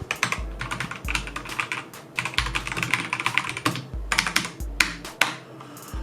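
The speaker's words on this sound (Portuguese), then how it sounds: "é um teclado básico, porém mecânico, com os switches Red" Someone types steadily on a basic mechanical keyboard with Red switches, producing rapid, close, fairly soft clacks in uneven bursts with brief pauses and no speech.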